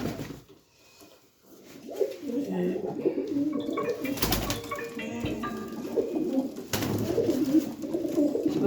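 Pigeons coo in soft, low throaty murmurs that run almost continuously, with a few louder bumps and handling noises nearby.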